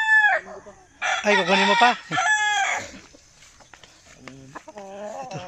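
Farm chickens, including a crowing rooster, give loud harmonic crows and clucks in close bursts, with a voice speaking briefly over them and fainter clucking trailing off toward the end.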